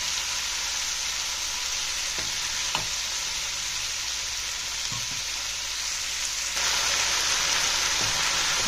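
Vegetables stir-frying in a wok over a high flame, a steady loud sizzle and hiss with occasional clatter of stirring, no voices.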